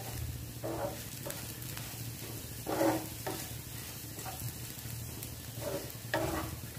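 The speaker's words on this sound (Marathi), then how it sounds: "हे मसाले आता कांद्यामध्ये असे मिक्स करून घेणार।" Turmeric and black masala are stirred into frying onions in a pan for a Maharashtrian sandgyachi bhaji, a soft steady sizzle with a few louder stirring scrapes, close and moderate with no speech.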